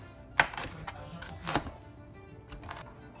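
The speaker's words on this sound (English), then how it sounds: "he's still chopping fennel" A kitchen knife chops fennel on a cutting board, giving a few sharp, separated knocks at an uneven pace, moderately close, with quiet room tone between strikes.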